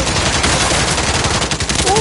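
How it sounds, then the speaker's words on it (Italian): Rapid bursts of automatic gunfire in the battle royale shooter Warzone, loud and continuous throughout, with dense crackling shots and a faint voice near the end. "guarda che sparo, guarda che sparo."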